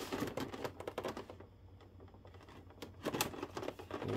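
Tape is cut and peeled off a figure's packaging during an unboxing, producing quick bursts of crackling, tearing and snipping noises close up, with a short quieter pause in the middle.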